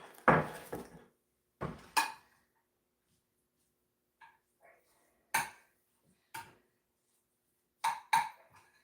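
Onions are stirred into potatoes in a pan, heard as scattered separate scrapes and clanks of a utensil against the pan with quiet pauses between, fairly close and alone.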